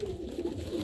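Pigeons, red-eyed birds at a pigeon sale in Amritsar, Punjab, give a brief, steady low cooing that hums continuously at moderate loudness.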